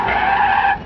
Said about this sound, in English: I'm going to hit the brakes hard.